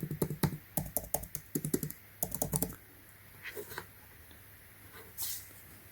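Typing on an Apple Magic Keyboard for iPad Air, close crisp key clicks in quick bursts for the first few seconds, then scattered soft taps and handling noises.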